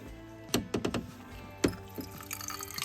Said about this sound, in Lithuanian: Dabar pripilsim 2 stiklinės vandens.